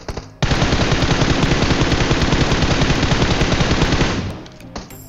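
Sustained rapid automatic gunfire in PUBG Mobile rattles loudly for about four seconds, then cuts off, followed by a few faint clicks.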